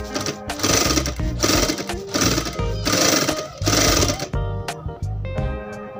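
A Brother/Juki sewing machine stitching black cloth makes loud, rhythmic mechanical chattering in four bursts, followed by a quieter whirring tail.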